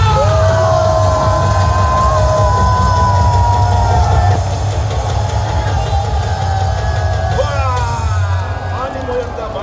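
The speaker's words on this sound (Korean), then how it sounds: "박기총 대통령이신 정량한 목사님을 기립 박수로 모시겠습니다." A large crowd at a rally rises for a pastor and political leader, cheering, yelling and whooping loudly over a constant low rumble in a continuous roar of voices.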